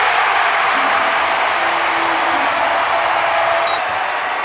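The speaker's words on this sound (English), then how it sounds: "that really got this crowd in a frenzy" A packed arena crowd roars in a loud, sustained wall of cheering after a dunk in an NIT second-round college basketball game between Minnesota and Indiana State, with no break in the noise.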